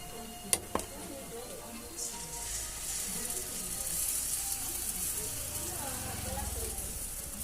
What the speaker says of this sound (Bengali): আর এই যে কতগুলো বড়া ভাজছি এখন